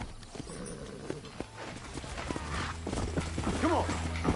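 In the video game Red Dead Redemption, horse hooves clip-clop in a quick rhythm and a horse whinnies near the end. Game voices talk over it and it stays fairly faint.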